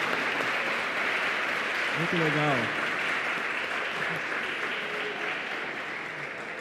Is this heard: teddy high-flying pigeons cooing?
no